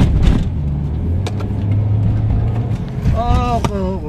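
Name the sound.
Toyota Rush car being test driven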